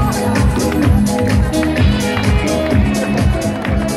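An audience at an Italian DJ party on a Rome terrace claps steadily and loudly, a continuous dense patter with crowd voices beneath and a thumping music beat throughout.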